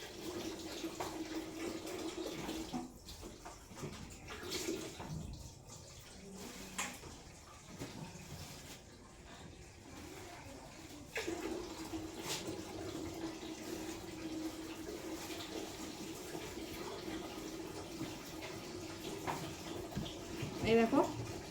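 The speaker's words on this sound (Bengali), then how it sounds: "চলো মাছগুলো ভালো করে ধুয়ে নিই।" Tap water runs steadily over fish being washed in a home kitchen, a continuous close rushing stream with brief splashes and clatter, while a person talks over it at times.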